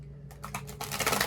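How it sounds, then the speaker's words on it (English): A giant tarot deck being shuffled by hand, a quick run of soft papery riffling clicks that starts after a short pause and grows denser and louder toward the end. "I'm going to shuffle it a couple of times"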